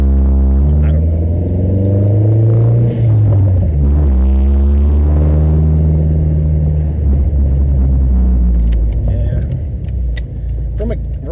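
A Dodge SRT-4 fitted with solid motor mounts pulls away as the clutch is let out, giving a loud, close engine drone that climbs through the revs, with faint rattles near the end.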